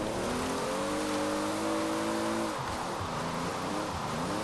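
Paul Walker's Fast and Furious Toyota Supra in Forza Horizon 4, its engine droning steadily with rising pitch, then easing off sharply as revs drop into rough, lower rumbling while drifting; loud and close, no talking.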